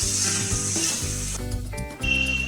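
Masala for kadai paneer sizzles and fries steadily in a pan while being stirred, a loud close crackling hiss with occasional scraping, no voices.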